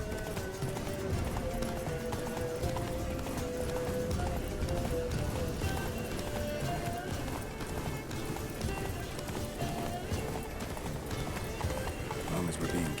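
The horse Roach gallops in The Witcher 3 with steady rhythmic hoofbeats, close and continuous, under game music and ambient sound while voices talk over it.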